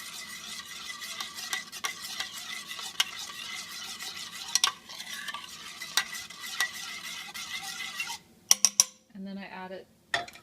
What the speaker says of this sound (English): And I'm going to stir that around till it's incorporated.